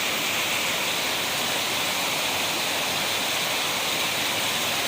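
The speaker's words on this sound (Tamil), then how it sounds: "எப்படி கொட்டுது பாருங்க." Heavy monsoon rain pours down steadily outside a house in Velachery, Chennai, a dense, continuous hiss with no letup, loud and close.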